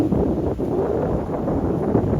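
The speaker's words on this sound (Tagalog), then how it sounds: "so mahangin dito" Steady wind buffets the microphone, a constant low rumbling roar with no voices.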